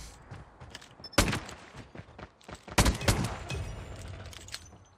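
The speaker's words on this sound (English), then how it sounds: "Gotta use my pistol again." Two sharp pistol shots crack out about a second and a half apart in a ranked multiplayer shooter game, each with a brief ringing tail, over faint in-game background noise.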